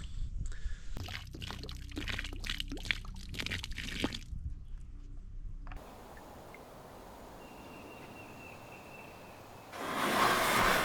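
Dirty water glugs and splashes out of an old bottle in uneven bursts for several seconds, then gives way to quieter outdoor ambience and a louder rush of wind at the end.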